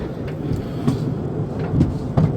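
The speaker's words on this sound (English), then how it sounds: "That's basically the train there." A small mine train runs along the riverbank at Morwellham Quay, giving a continuous rumble broken by rhythmic knocks and clatters from the cars, with no one speaking.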